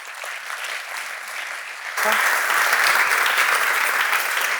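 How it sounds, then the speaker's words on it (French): Audience applause at a public presentation on ecological transition projects, steady clapping that swells louder about halfway through and holds strong to the end. "je vous propose d'applaudir"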